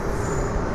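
The Amrit Bharat Express runs at cruising speed with a loud, dense rumble and rattle heard from inside the train, steady throughout the short moment.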